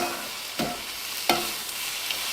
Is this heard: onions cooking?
yes